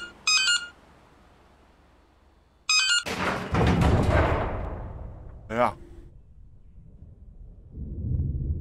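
Nokia mobile phone dialing beeps in the horror game Anthology of Fear: Prologue come as two short bright bursts, followed by a loud crashing rumble, a brief vocal cry and low ambient noise.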